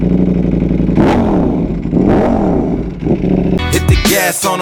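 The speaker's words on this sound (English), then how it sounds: "Let's get a couple revs." A motorcycle engine on a semi-cold start is blipped through two rising and falling revs, then settles to idle. A burst of music or voice cuts in at the end.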